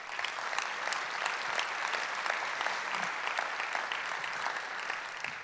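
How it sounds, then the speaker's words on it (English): A conference keynote audience applauds the team of interpreters: a steady, dense roar of many hands clapping throughout, even and sustained, with no voices over it. "Please, a round of applause for our guys over here."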